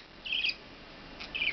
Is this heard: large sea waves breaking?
no